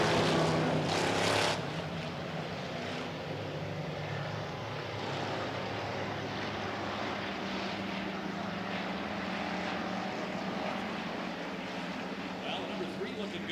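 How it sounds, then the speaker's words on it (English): Pure stock race cars roar around the track at Coop Speedway as the green flag drops, a dense, steady engine drone with a louder burst at the start, under an announcer's continuous commentary. "They are waving the green flag, and we are off and racing in this second race here out of Coop Speedway."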